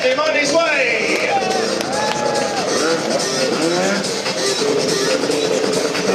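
A crowd at a jet stunt show cheers and whoops steadily, a broad roar of many voices sustained throughout, with a lively announcer-style voice talking over the noise.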